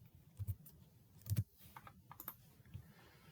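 Keys tapped on a computer keyboard, a handful of soft, irregular clicks close by with brief pauses between them, faint against a quiet room.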